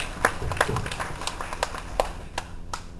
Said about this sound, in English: let's give Mary another round of applause